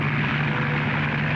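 Propeller float plane flying in an air race, a loud steady engine drone with a strong low hum, close and continuous for a moment with no voices.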